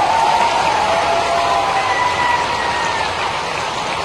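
A large crowd at a political rally in Morena clapping loudly and continuously, a dense wash of applause with a faint whistle-like tone running through it.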